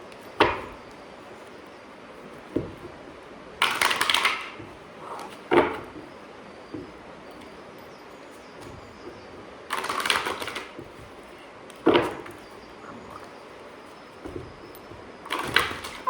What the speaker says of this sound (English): cleansing shuffle, and one more cleansing shuffle.